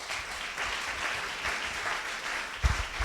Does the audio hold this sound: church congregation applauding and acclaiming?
yes